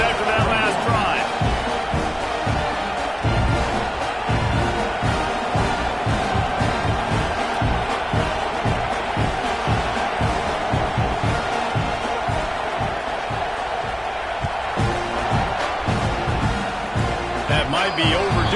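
Stadium crowd in College Football 26 roaring continuously at kickoff, a dense, steady wash of cheering with a commentator talking over it throughout.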